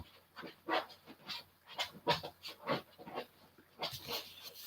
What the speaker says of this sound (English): My dog's making a heck of a noise.